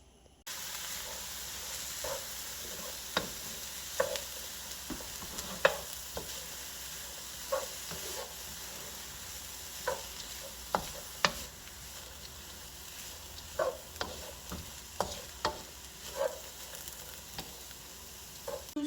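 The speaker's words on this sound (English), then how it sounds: "Add a tablespoon of sesame oil in to saute my vegetables." Vegetables sautéing in sesame oil, a continuous sizzle and hiss with frequent sharp taps and scrapes of a utensil stirring the pan, close and steady throughout.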